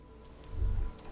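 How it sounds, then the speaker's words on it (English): Rain falls in the video game Disco Elysium as a faint, steady wash of patter, with a brief low rumble swelling and fading midway. "This rain will not let up anytime soon."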